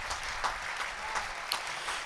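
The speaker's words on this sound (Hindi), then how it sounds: "मैं जालोर की तालियों की गड़गड़ाहट चाहता हूं।" Scattered audience applause at a kavi sammelan poetry recital in Jalore, a steady broadband patter of clapping at moderate level with a few sharper claps standing out, no voices.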